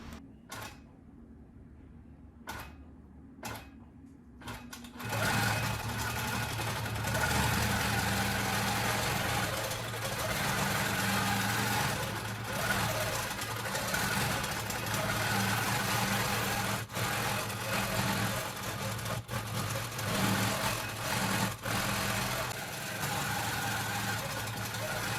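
A computerized longarm quilting machine stitches a quilt block, starting after a few sharp clicks into a steady, loud mechanical hum and rattle with intermittent ticks that continue throughout.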